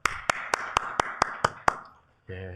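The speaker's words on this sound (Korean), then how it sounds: "하나님께 감사와 영광의 박수를 올려드리도록 하겠습니다" Congregation clapping during a Sunday worship service in a church, a run of about eight sharp, evenly spaced claps that stop abruptly, followed by a short silence and the start of a low tone.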